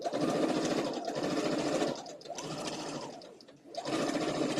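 A sewing machine stitching the last seam, whirring in steady, loud bursts close by that slow down and pause briefly twice before running again at full speed.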